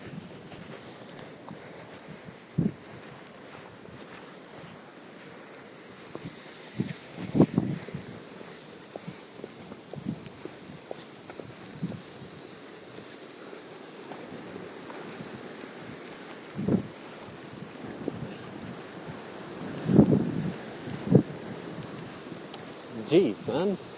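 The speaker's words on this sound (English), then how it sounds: "It's extreme wind." Wind buffets the microphone in low, irregular gusts and thumps, with occasional louder blasts and faint background rush.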